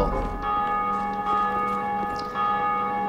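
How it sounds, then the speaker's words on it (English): Bell tower bell in Dark Souls II ringing loud and near, its sustained metallic tones hanging over the whole stretch with a fresh strike partway through, no talking. "This is the bell."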